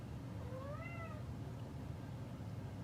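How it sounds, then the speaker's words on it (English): A single drawn-out cat meow, rising then falling, fairly close, over a steady low background hum; silence from the animal afterward. "If you hear my cat meowing,"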